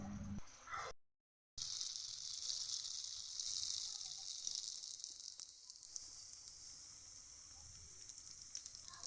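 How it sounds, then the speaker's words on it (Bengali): Pitha batter sizzles in hot oil, a steady close hiss of frying that runs almost the whole time after a brief gap near the start, with no talking. "এইখানে আমি গরম গরম তেলের মধ্যে ছেড়ে দিলাম গোলা, কারণ আমি এখানে তেলের পিঠা তৈরি করছি।"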